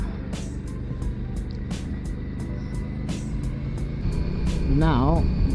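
An Aprilia RS 457 motorcycle rides along with a steady engine drone and wind rush, the rider talking over it throughout while the engine note rises briefly near the end.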